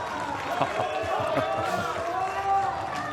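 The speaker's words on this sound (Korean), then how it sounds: "박수를 보내는 초클럽" Crowd applause and cheering at a PBA team league final billiards match after a successful double-bank shot, a steady wash of clapping with some whoops and a commentator talking over it throughout.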